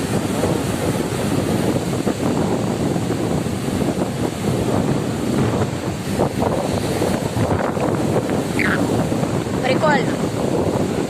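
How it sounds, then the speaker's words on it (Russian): Strong wind at the sea, a constant heavy rush and microphone buffeting over breaking surf, with faint voices underneath. "Ветер вообще жесть."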